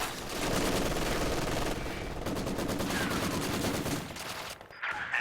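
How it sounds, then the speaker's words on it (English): MG42 machine guns fire sustained, rapid bursts in the video game Company of Heroes 2 during a 2v2 match, dense overlapping rattling that stays loud throughout before a brief lull at the end. "we've got a couple MG42s blasting away"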